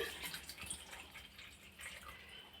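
Cold water poured into a cooking pot of mangoes after a 10-15 minute boil; a soft, steady splashing and trickling, faint and close, with no talk.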